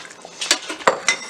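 A lid goes onto the egg curry pot, giving a few sharp metallic clanks and clinks in quick succession, close and clear, with no voices.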